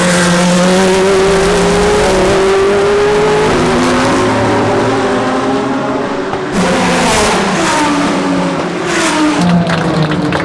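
A Chevrolet Corvette C8.R race car's engine roars on track during a race, loud and continuous, its pitch climbing and dropping through gear changes, with a brief dip before rising again.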